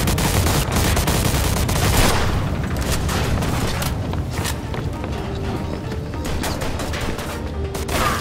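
Gunfire in a Mafia II firefight, dense bursts of rapid shots and booming impacts layered with running footsteps, loud and continuous throughout.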